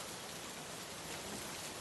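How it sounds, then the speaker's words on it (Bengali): Steady rain pouring down, a dense even hiss of drops falling continuously with no voices. "বৃষ্টি সহজে থামবে বলে মনে হয় না"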